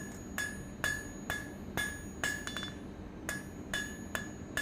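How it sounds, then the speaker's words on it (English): A hammer strikes hot steel on an anvil during the forging of a leaf hook. Evenly paced ringing blows repeat about twice a second, with a short flurry of quick light taps in the middle. "by rotating and hammering that whole area"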